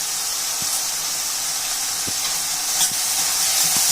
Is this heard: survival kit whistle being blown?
no